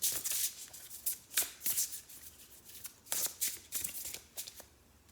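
Flower medicine cards are shuffled by hand in a series of brisk riffling bursts with short pauses between them, close and fairly soft, with no voice.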